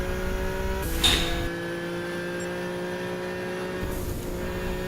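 Engine of the Peugeot Vision Gran Turismo race car circling Laguna Seca in GT6, a steady sustained drone with a brief surge near the start before settling into an even, constant pitch.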